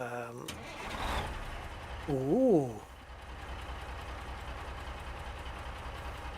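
A truck engine in American Truck Simulator cranks to life with a short burst, then settles into a steady low idle, with a man briefly exclaiming over it.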